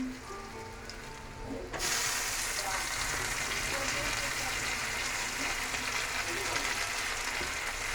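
Chopped tomatoes hit a pan of washed rice, setting off a loud, steady sizzle that swells suddenly after a quiet start and carries on evenly to the end.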